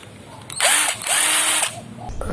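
An IMAX IMIS-12v 12-volt cordless impact driver runs close up in two loud bursts of about half a second each, whirring and hammering with a short pause between them.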